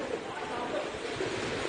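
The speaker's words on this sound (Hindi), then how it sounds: "आप सुन पा रहे हैं जो तेज हवा बह रही है" Strong wind from Cyclone Nisarga striking Maharashtra: a steady, dense rushing roar that fills the whole stretch with no breaks, loud and close, as if buffeting the microphone.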